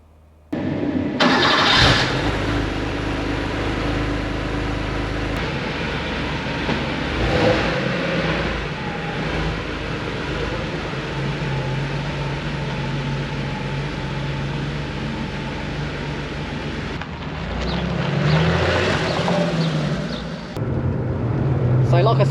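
A 1986 Porsche 911 3.2 with a lightweight flywheel and roll cage starts up and drives off, the engine catching loudly then a steady rumble with revs rising and falling, a voice speaking over it.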